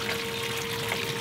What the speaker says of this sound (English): And we start sparging. Sparging is basically rinsing the grains out.